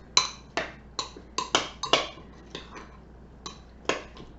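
A metal utensil clanks and scrapes against a bowl while mixing strawberry salsa with hot sauce, about a dozen bright irregular knocks up close with no talking.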